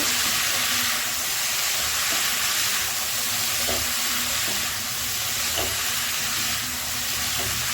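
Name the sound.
stirring malabar spinach and spring onion in pan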